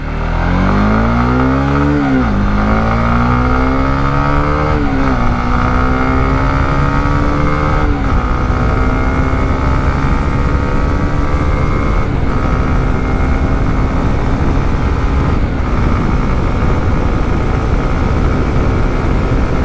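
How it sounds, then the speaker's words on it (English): A Honda CBR150R motorcycle engine revs up repeatedly through rising pitch sweeps, loud and close, then settles into a steady high drone. "the engine revs way more smoother, while makes a better sound than the previous one."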